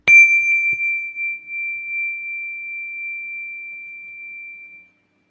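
A meditation bell strikes once with a clear, bright ping, then a single pure tone rings on steadily and fades out after about five seconds in an otherwise quiet room.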